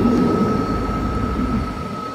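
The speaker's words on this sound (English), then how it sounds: "it's just been separated. So it was a 10 coach train." A ten-coach train, just separated, departs with a loud, steady low rumble and a sustained whining tone, heard close and continuous throughout.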